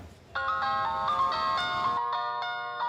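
A mobile phone rings with a bright, melodic electronic ringtone, loud and close, cutting in abruptly and repeating its tune for a few seconds.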